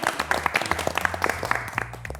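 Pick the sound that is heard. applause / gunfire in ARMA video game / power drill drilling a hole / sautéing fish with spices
applause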